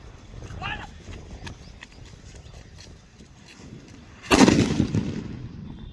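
A small Diwali firecracker, an auto bomb, bursts in one sharp loud bang near the end, followed by a short rattling decay, after quieter background noise and distant activity.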